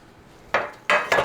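Metal 9-inch cake pans are set down in a kitchen with three sharp clanks, one single knock followed by two quick ones close together, near and loud in an otherwise quiet room.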